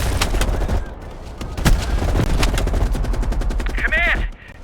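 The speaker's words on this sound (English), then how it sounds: "You readied your sniper rifle to assist." Sniper rifle fire in the Call of Duty Black Ops Cold War campaign: several sharp, loud shots crack at irregular intervals over dense battle ambience, with a brief warbling whoosh near the end.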